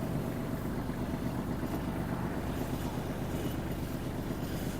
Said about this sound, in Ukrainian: дамо двигуну трохи прогрітись